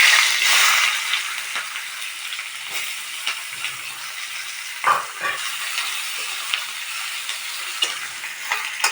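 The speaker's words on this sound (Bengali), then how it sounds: "পেঁয়াজটা এরকম লাল লাল করে ভাজা হয়ে যাবে।" Chopped onion sizzling in hot oil in a pan where fish was fried just before, a steady hiss with scattered ticks and a few stirring scrapes, close and moderately loud, no talking.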